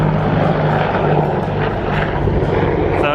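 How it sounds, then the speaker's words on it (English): A steady, loud aircraft engine drone with rotor-like pulsing holds throughout, close and continuous, like a helicopter passing low overhead. "here's a helicopter"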